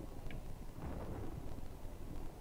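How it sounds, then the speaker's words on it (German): Thunderstorm ambience in the horror game Pineview Drive: a faint, continuous low rumble of thunder under a steady rain-like hiss, with no voices. "Oh, ein Gewitter."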